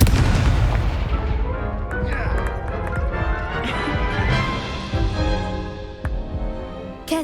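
Booming blasts and crashing impacts erupt close and loud from a Confringo spell in the Hogwarts Legacy video game, several explosions piling up amid ringing effects and debris clatter.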